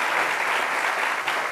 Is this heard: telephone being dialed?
no